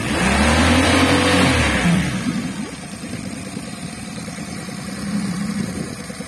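A Tohatsu EFI 30 outboard motor with a fault in its fuel injection electronics revs up loudly and close by, its pitch rising then falling back, then settles into a steady mid-pitched running drone with a slight swell near the end.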